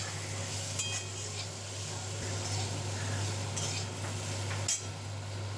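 A vegetarian dish is stirred and fried in a pan with a quiet, even sizzle and a few light scrapes and clinks, over a faint constant hum.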